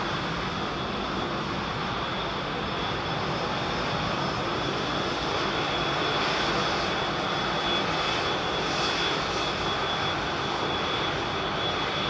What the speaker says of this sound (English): 4 A380s on the move.